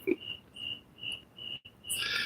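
Crickets chirp steadily in repeated high trilling bursts with short gaps, fairly faint and continuous, alongside a brief low thump near the start and a louder hiss at the end.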